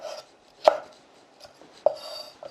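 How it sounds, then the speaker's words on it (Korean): A knife slices red chili peppers on a cutting board with a few sharp, separate cuts close by, spaced irregularly with quiet between them, and no talking. "홍초를 썰어 보겠습니다. 약간 어슷어슷 썰어서 넣어주세요."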